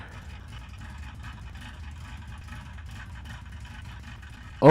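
A work truck engine in the Roblox game American Plains Mudding runs at a steady low idle, a quiet continuous rumble with no talk until a short loud burst right at the end.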